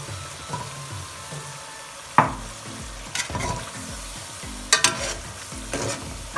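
Boiled chickpeas frying in hot oil and spiced masala, stirred with a spoon: a steady low sizzle broken by several sharp scraping strokes against the pan, close and fairly loud, with no talking.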